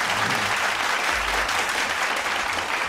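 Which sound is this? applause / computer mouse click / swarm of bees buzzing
applause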